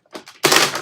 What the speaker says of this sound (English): Ah, I dropped my keyboard.